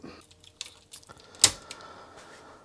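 A few scattered keystrokes on a Sanyo Wavy 23 MSX2 computer keyboard, quiet and close, with one sharp louder clack partway through, and no talk.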